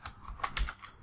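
Quick bursts of keystrokes on a computer keyboard while Python code is typed, a few soft, irregular clicks close to the mic and otherwise quiet.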